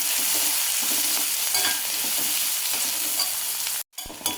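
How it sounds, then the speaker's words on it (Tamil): Two green chillies sauté in a little oil in a pan, a dense close sizzle with stirring scrapes running steadily, then a sudden brief cutoff near the end before the frying resumes. "இதில் கொஞ்சம் எண்ணெய் ஊற்றி வதக்கிக்கலாம்."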